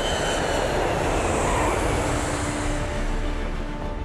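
A steady, loud roar of an airplane engine as it approaches a runway to land at Madeira airport, with a broad rushing drone and faint tonal whine throughout.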